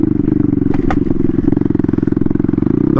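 Turbocharged Honda Grom with a swapped-in CBR engine roars steadily at full throttle around 4,000 RPM, a loud, continuous pulsing drone close to the rider with no talking.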